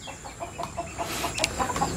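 Native desi country chickens kept in a backyard shed cluck in a quick run of soft, repeated calls at close range with a little background rustle.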